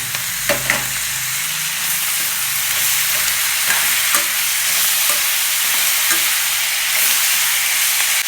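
Chopped tomatoes fry loudly in a pan for tomato chutney, a dense, constant sizzle with scattered light taps and scrapes from stirring, up close and with no voices.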